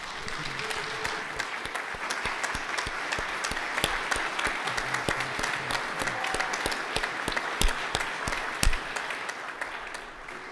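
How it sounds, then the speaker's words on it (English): Members of the North Carolina House applaud a colleague's birthday in the chamber, with continuous moderate clapping marked by sharp individual claps close by, sustained for around ten seconds. "if we could give her a round of applause for her birthday"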